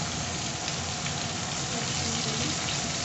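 Onions frying in oil for a chili fish dish make a dense, constant crackling sizzle that holds steady and close throughout, with no talk over it.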